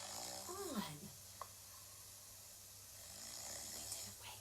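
A person imitates a bear snoring while reading a children's story aloud, giving a few drawn-out, rumbling snore sounds near the start, then a quiet stretch with faint breathy noise.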